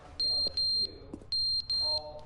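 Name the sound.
smoke alarm beeping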